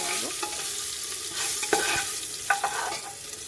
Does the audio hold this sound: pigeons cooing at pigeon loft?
no